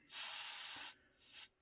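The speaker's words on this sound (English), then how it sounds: "I've got the nozzle cap off to get a finer spray" An airbrush with a 0.2 needle and the nozzle cap removed sprays heavily thinned German grey XF63 paint in one steady hiss of almost a second, then a second shorter, softer burst, close by.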